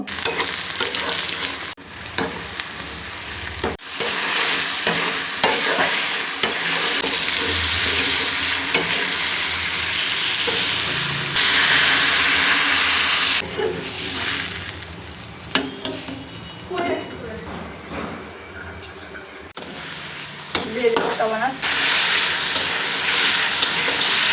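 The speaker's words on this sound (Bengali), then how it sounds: "জিওল মাছ ভুনা করা শেষ" Jiol fish (stinging catfish) cooking down in a pan in a village kitchen, with steady loud sizzling and repeated scraping stirs, close and continuous with no talk.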